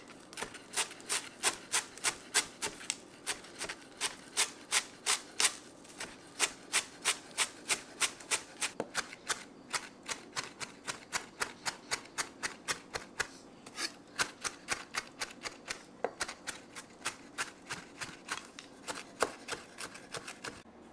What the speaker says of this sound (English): now we're going to chop the cilantro, very finely chopped